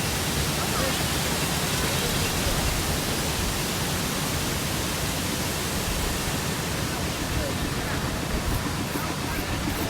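Hogenakkal waterfalls with water flowing, heard as a dense, steady broadband roar close by that never lets up, covering any other sound.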